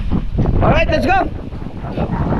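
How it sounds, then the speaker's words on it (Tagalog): Strong typhoon wind roars and buffets the microphone in a constant heavy rumble during heavy rain in Batangas, Philippines, with a voice speaking briefly over the gusts. "Grabe yung lakas ng hangin ah."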